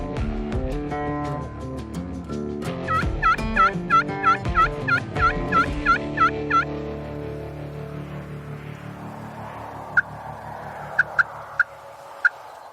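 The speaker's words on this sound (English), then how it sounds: "At first light, the birds gobble" Wild turkeys gobble from a roost tree at first light, a run of about ten loud, rapid gobbles close by, then a few sharp, isolated calls over a soft wash of morning ambience.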